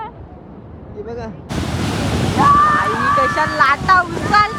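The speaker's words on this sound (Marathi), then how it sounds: "लाटांचा आवाज तर बघूच शकता तुम्ही, खूपच डेंजर भयानक आहे" Sea waves crash at Somnath beach in a loud, rushing roar that swells and washes on, with voices talking and calling over the surf.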